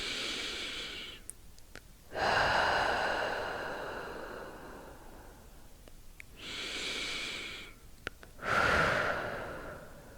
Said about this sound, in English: inhaling through the nose, exhale through the mouth. Two more breaths here.